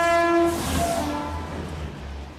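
A Konkan Railway Holi special express passes close by, its loud horn blaring for about half a second before giving way to the rumble of the moving train.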